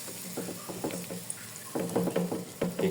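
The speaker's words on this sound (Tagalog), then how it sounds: "Ayan, prito natin sa ulit." Bursts of crackling sizzle as battered cauliflower fries in hot oil, rising and falling in short waves with brief quieter gaps.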